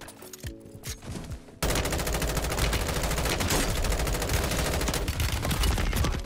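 Sustained automatic gunfire in the video game Call of Duty: Modern Warfare 3, a few scattered shots giving way to a loud, continuous rapid-fire burst that runs to the end, with no talking.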